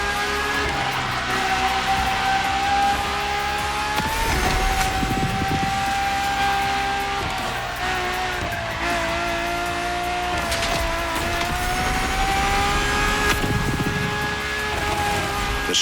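Ferrari's naturally aspirated V12 hybrid supercar in The Crew Motorfest screams loud and steady at high revs, with gear shifts and brief dips in pitch breaking the sustained whine.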